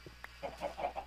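Minecraft chickens cluck in short, soft bursts, a few quick calls spaced across about a second, fairly close but quiet against a steady low background hum.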